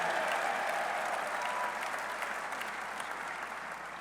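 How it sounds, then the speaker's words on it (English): An audience at a college football coach's introductory press conference applauds, a dense, steady clapping that fills the room and fades slightly toward the end, with no talking over it. "give that a round of applause"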